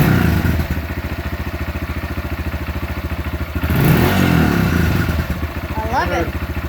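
A Honda CRF125F motorcycle engine idles with a fast steady putter, then revs up loudly and settles back to idle, close by, with brief talk over it.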